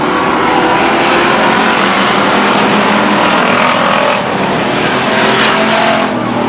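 Stock cars in a pure stock heat race at Stockton 99 Speedway roar loudly off a turn, engines droning together in a dense, continuous blare with slight swells as cars pass.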